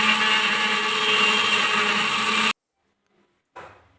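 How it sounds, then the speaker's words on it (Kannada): A mixer grinder runs loud and steady, grinding tomatoes into paste for mutton biryani, then cuts off to silence before a short second burst starts up. "ಇವಾಗ ನಾನು ಟೊಮೊಟೊ ರುಬ್ಕೊಳ್ತಾ ಇದ್ದೀನಿ"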